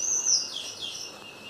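A small bird gives a single high, thin chirp up close, followed by a fainter trailing tweet over soft background hiss.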